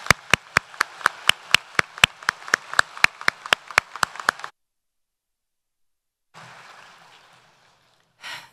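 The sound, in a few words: applause for the musicians at a graduation ceremony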